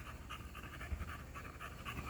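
A small dog pants rapidly and steadily at close range outdoors, a quick rhythmic huffing that runs on its own through the whole stretch with no talking.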